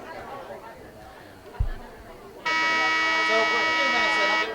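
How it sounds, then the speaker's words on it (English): A loud, steady electronic buzzer blares for about two seconds at a high school varsity field hockey game, marking the end of the break over crowd chatter and distant voices. "There's a buzzer signaling the end of the break."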